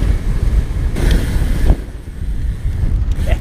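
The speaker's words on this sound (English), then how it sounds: "A little more windy on this run." Wind buffeting the microphone on a mountain bike ride along boardwalks near the sea, a loud low rumbling roar that swells and dips throughout, with no talking.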